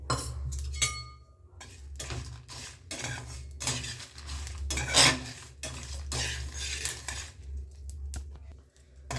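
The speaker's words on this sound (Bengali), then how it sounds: "এর মধ্যে দিয়েছি একটু জিরা পাঁচ ফোড়ন আর একটু কালো সর্ষে দেখুন এগুলো আমি শুকনো কলায় রোস্ট করে নেব" Cumin, five-spice and black mustard seeds dry-roast in a pan, heard as an irregular series of close metallic clinks and scraping from a spoon stirring against the pan, with a low hum underneath.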